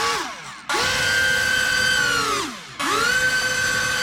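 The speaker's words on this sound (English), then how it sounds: "I'll hold it so we can rev it a bit." The electric motor of a Boeing B-17 Flying Fortress RC airplane, held in hand, revs up into a high, whining drone, spools down, then revs up again, loud and close.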